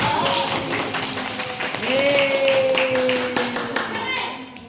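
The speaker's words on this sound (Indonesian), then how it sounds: "Mari kita beri tepuk tangan dulu" Children clapping hands together in a classroom, a fairly loud, dense run of claps continuing throughout, with a tonal sound and some voices mixed in.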